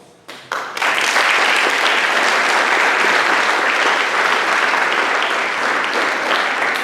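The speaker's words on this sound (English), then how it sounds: "Give them a warm applause." An audience at a high school honor society induction ceremony breaks into a loud, dense burst of warm applause after a few scattered early claps, sustained evenly throughout.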